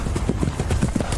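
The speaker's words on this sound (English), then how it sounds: "This horse are kind of shaking." Horse hooves clip-clop in a quick, steady rhythm, close and moderately loud, with no talking over the beats.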